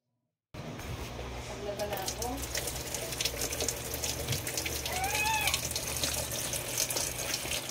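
An automatic washing machine with a water-dumping fault filling with water, a steady hiss of running water that swells slightly over several seconds, with a few faint squeaky tones over it, after a short silence at the start.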